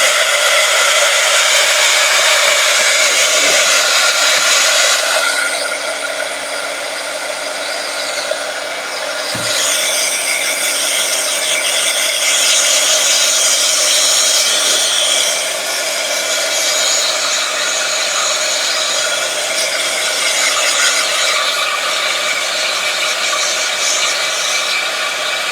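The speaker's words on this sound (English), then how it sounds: "I'm gonna hit it with the heat gun real quick, so it might get loud for just a minute" Heat gun blowing steadily during gel pen Bible journaling, a loud continuous airy roar that runs without a break and dips slightly partway through, with faint clicks and handling noises underneath.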